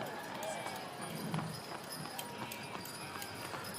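Hooves clip-clop steadily as horses pull carriages, including a New England Victoria, in the Lebanon Carriage Parade. The hoofbeats sound moderately near and continue under a commentator's talk and outdoor crowd noise.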